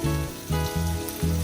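Menpachi fish deep frying in oil, cooked Hawaiian karaage style, give a loud, close, crackling sizzle that swells in short bursts about every half second.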